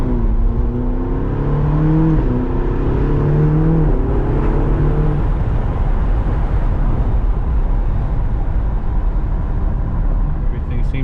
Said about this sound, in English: You guys can hear it's got a DSG or DCT dual clutch transmission where it engages both gears at one time, has that seamless shift.